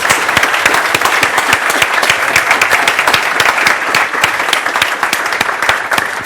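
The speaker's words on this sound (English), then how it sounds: "Everybody give these guys a round of applause." Conference keynote audience giving a sustained round of applause, many sharp individual claps standing out in a loud, steady crowd clapping with no talking.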